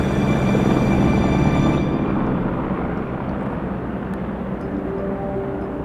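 A loud, steady helicopter drone fills the whole stretch during a transport flight in Zermatt, a dense engine-and-rotor roar that eases off slightly partway through.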